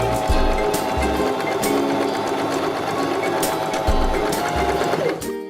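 A Janome 523H sewing machine stitches a buttonhole, a steady loud mechanical whirr with fast rhythmic needle clatter running continuously close by, pausing briefly and then winding down at the end.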